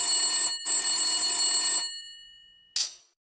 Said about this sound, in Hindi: लड़की के पिता के घर पर टेलीफोन बजता है।